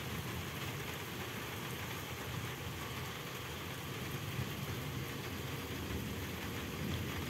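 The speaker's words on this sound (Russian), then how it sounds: "маленечко дождь притих" Steady rain from a long thunderstorm with hail, falling evenly on surfaces outdoors, a continuous moderate hiss with no voices and no distinct thunderclap.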